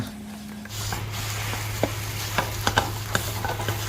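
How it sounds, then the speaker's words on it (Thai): Kuichai dough is stirred steadily in a Teflon frying pan over a low hum, with scattered soft scraping taps against the pan. "คน ไปเรื่อยๆ จนกระทั่งแป้งเริ่มใส"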